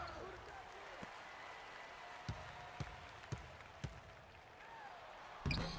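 NBA 2K1 basketball game arena crowd applauds and cheers steadily in the background, with several sharp ball bounces punctuating the noise and a louder burst near the end.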